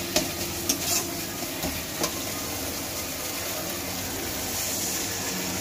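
Ginger-garlic spice paste sautéed with a splash of water, making a dense, steady sizzle with a few early spatula clinks and scrapes, close and continuous with no voices.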